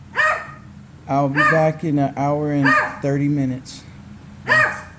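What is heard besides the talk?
dog barking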